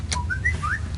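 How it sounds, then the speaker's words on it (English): Someone whistles a few short sliding notes, quick rising chirps over a steady low background hum, brief and moderately clear. "Someone's whistling at me."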